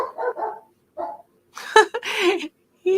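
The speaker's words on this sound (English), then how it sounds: "He just loves to bark." A small dog barks in short sharp bursts, loud and close, a few yips clustered together with quiet gaps and a person speaking briefly between them, indoors during an acrylic painting session.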